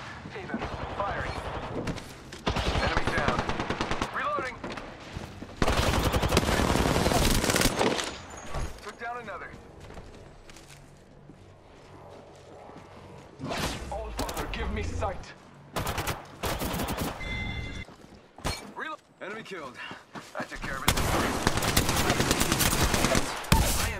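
Rapid gunfire bursts from the video game Apex Legends, loud clusters of shots alternating with quieter stretches, while a player talks over the action.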